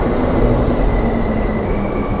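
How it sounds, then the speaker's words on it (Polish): Train pulling into the first platform at Warsaw Central station against the usual direction: a loud, steady rumble of wheels on rails with a faint high squeal. "Tutaj wjeżdża pociąg pod prąd na pierwszym peronie"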